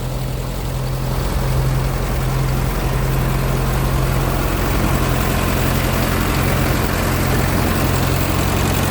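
A farm rice threshing machine engine runs steadily and loudly on its own, a continuous low heavy drone with a steady hum throughout.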